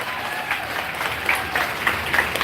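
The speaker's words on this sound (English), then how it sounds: "Give a round of applause for my mother." An outdoor crowd at a police brutality protest claps for the speaker's mother, an even, moderately loud patter of many hands, with faint voices mixed in.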